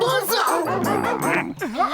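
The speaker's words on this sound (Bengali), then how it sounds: "Meet my police dog havildar বোঝো।" A cartoon police dog barks in a few short yips and bow-wows mixed in among lively animated character voices, the dog sounds close and bright but partly tangled with the speech.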